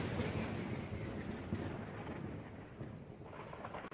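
A thunderstorm rumbles with a long, deep roll of thunder over steady heavy rain, loud and broad throughout with no voices.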